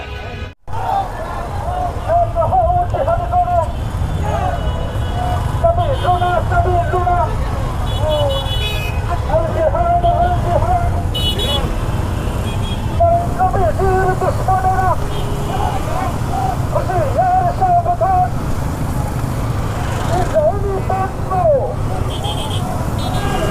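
Motorcycles gather and ride in a protest bike rally for Gaza near the Bhaluka memorial, with engine rumble, traffic noise and horn toots running steadily under loud nearby talk.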